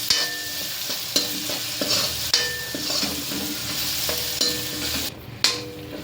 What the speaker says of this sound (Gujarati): આ કાંદાને હું 2 મિનિટ માટે સાતળી લઈશ